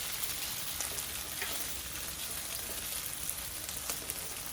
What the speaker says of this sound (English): Now we're gonna fry it. I like to shallow fry mine.